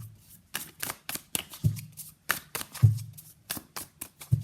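Tarot cards being shuffled and pulled, a run of crisp riffling snaps and soft slaps in an uneven rhythm, close and fairly loud with no talking.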